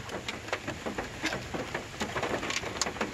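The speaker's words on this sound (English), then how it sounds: "it's actually starting to rain now" Scattered raindrops patter irregularly on a hard surface, light tapping spread across the moment with no voices, as rain starts during a wiper motor replacement on a 2008 Hyundai Veracruz.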